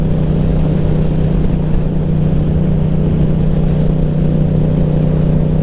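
A motorcycle fitted with an Akrapovic exhaust with the baffle removed is ridden along, a loud, close, steady engine drone with a deep rumble that holds constant throughout.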